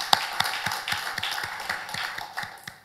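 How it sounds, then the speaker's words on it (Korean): A church congregation claps together, a crowd of hands applauding in a fairly even rhythm of sharp claps, moderately close and steady, with no speech over it. "열방과 세계 가운데 홀로 유일하신 우리 살아계신 하나님께 영광의 박수 올려드리겠습니다"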